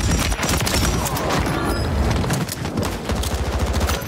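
Sustained bursts of PKM machine gun fire in a video game, dense rapid rattling shots rolling continuously and loudly with no pauses.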